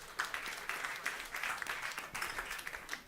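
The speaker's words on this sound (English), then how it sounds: "Please give him a round of applause as he enters." An audience applauds at a panel event on food security as a guest walks on, steady dense clapping in waves with no voices over it.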